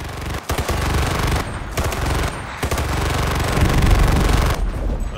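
Bursts of automatic fire from a 63-round weapon in the video game Enlisted rattle loudly and close, several sustained volleys broken by brief pauses, with no talking.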